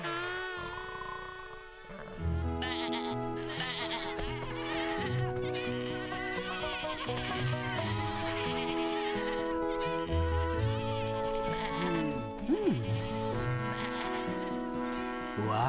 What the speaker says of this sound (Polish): A co to za hałas do licha? O, to tylko owce.